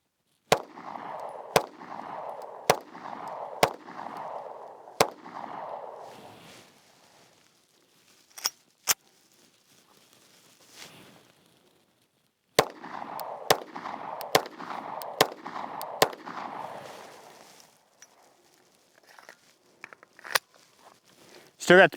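Sharp pistol shots from a Taurus GX4 Carry, a standard GX4 and a Glock 48 firing 115-grain jacketed hollow points, heard close in two quick strings of about five rounds, then a few scattered shots, with faint talk between them.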